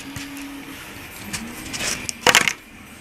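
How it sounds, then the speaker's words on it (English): A Kingroon KP3S Pro 3D printer printing parts, its stepper motors giving a steady whir with shifting tones and a brief clatter of quick movements near the end, close and moderately loud with no talking. "It's printing the parts for the bigger F-35."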